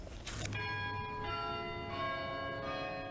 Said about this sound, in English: church bells ringing and a Muslim giving a sermon?